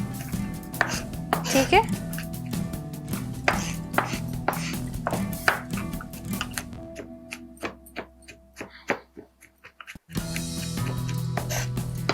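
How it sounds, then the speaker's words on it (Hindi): Knife chopping food finely on a board in a cooking show kitchen, a long run of rapid, close taps that thin out into sparser knocks, with brief speech over it. "बहुत अच्छे से हमने इसको फाइनली चॉप कर लेना है।"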